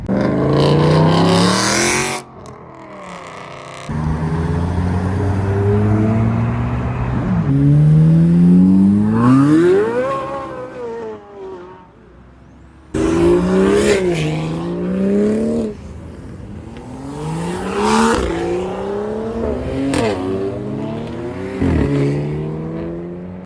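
Cars at a Montreal night car meet, including Lamborghinis, rev hard and hoon, with repeated rising engine howls, gear-change drops and loud passes, close and continuous across the span, with short gaps between bursts.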